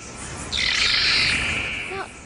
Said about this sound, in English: Now, those can't be crows, huh? Can they?